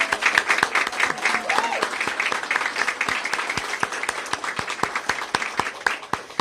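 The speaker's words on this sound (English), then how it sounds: "Yeah, can we clap for them?" An audience applauds staff of a housing authority at an indoor networked geothermal announcement event, steady close clapping from many hands filling the space for several seconds with a few sharper individual claps standing out, with no voices over it.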